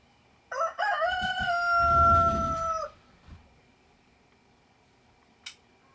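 A rooster gives one loud, close cock-a-doodle-doo lasting about two seconds, then near silence apart from a couple of brief clicks.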